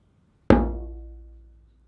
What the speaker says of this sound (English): This is how bass sound like on the djembe that is not tuned.